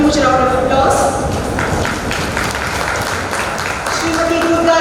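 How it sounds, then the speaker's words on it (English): A room claps for an award winner at a railway nurses' Nurses Day celebration in Chennai, a steady, dense patter throughout, with a voice and faint tones rising above it at moments. "first we'll give her a huge round of applause"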